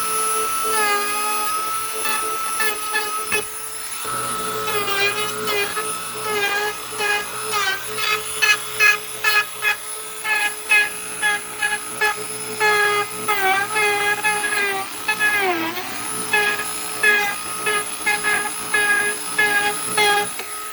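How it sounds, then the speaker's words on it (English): Dremel rotary tool grinding the inner edge of a cracked car bumper to roughen the surface, a loud high whine that keeps shifting pitch as the bit bites, with repeated short chattering pulses across the whole stretch. "you can use, a Dremel tool, just get it in there"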